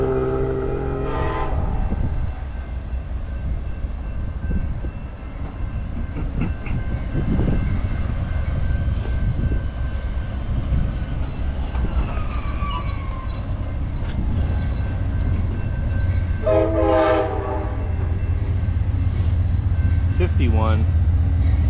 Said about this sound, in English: Here comes train number 5.